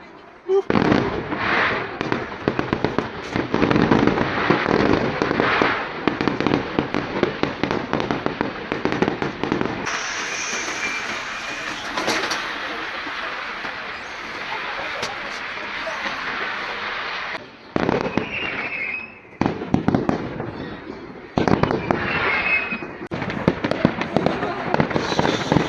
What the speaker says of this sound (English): Someone happened to be setting off fireworks.